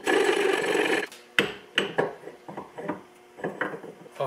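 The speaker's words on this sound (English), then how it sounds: "I'll file it a little bit more." A hand file rasps against a metal part being fitted on a trailer valet repair, heard as a long continuous stroke followed by a series of shorter, sharp scraping strokes at close range, with no talking.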